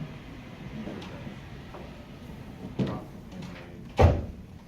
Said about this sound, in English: Can you shut that door, please?